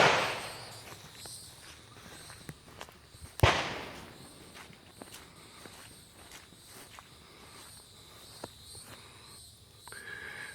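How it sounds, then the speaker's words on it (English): H&K VP9 pistol fired at an outdoor shooting range: a handful of sharp, widely spaced cracks, one standing out loud and close, with quieter distant pops from other shooters in between. "My first shots with my H&K VP9."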